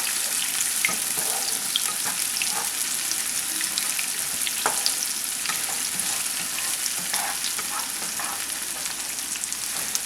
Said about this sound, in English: I'm going to saute those onions up some.